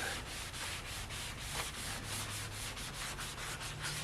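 A flexible sanding pad is rubbed by hand over a Chevy 2500 truck's body, a close, steady abrasive scrubbing in quick back-and-forth strokes with no talk.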